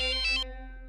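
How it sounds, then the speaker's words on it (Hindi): A phone rings with a short electronic tone, four quick bright pulses over a sustained chime that then fades out, heard clearly and alone. "मार्फतिया का फोन आ गया ऑफिस से।"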